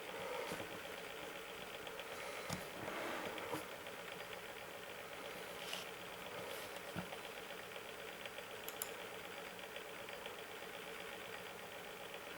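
A gaming PC runs loudly, its fans giving a steady, harsh whir with a rattling hum like a worn air conditioner, plus occasional faint knocks and clicks, close and continuous with no speech.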